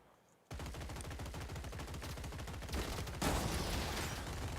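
Rapid rhythmic gunfire from a shotgun bot in the Gladiabots strategy game, a dense rattling burst that starts abruptly after a quiet moment and continues steadily, swelling louder toward the end.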